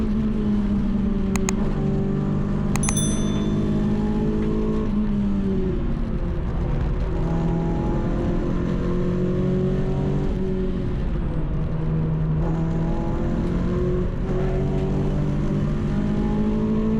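Renault Clio race cars launch together at the start of a Cadwell Park trackday race, engines roaring loud and close with rising revs, gear-change dips and wheel spin in a sustained, dense mechanical drone.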